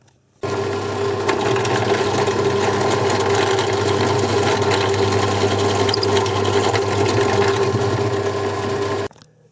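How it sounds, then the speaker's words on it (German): A power drill bores holes through an electronics enclosure to fit a mains socket for a DDS function generator build: one steady, loud motor whine running about nine seconds without pause or talking. "Also ich bohre jetzt einfach hier die Löcher durch und dann passt das."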